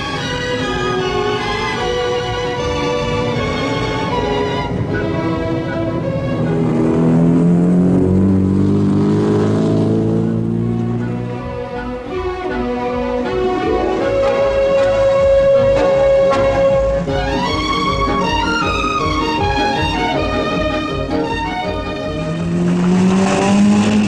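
Monte Carlo Rally cars descending the Grande Corniche past La Turbie toward Monaco, engines revving and shifting through gears with rising and falling whines, one car after another passing close and loud, with no talk.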